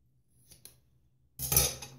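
Scissors cut through a sealed foil sample bag in one short, crisp, crinkly snip near the end, after a couple of faint taps and a quiet pause.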